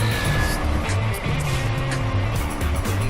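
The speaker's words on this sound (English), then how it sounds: "It is a concrete mixer truck." Steady, loud engine rumble from a cartoon concrete mixer truck in a children's vehicle video game, a continuous low drone with slight pulsing and no talk over it.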